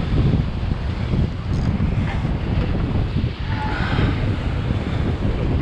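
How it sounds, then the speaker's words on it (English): Heavy wind buffets the microphone in a constant low roar throughout, masking everything else, with faint water and fishing boat sounds underneath. "It has gotten really windy, y'all, so I apologize if the wind noise is terrible."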